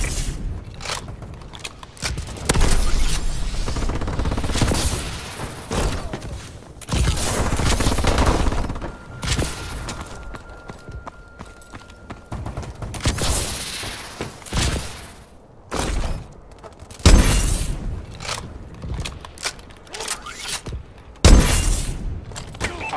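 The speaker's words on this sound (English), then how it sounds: "Friendly missile strikes incoming!" Video game combat with friendly missile strikes and rapid gunfire: dense, loud bursts of shots and heavy impacts roll on almost continuously, with a few brief lulls between volleys.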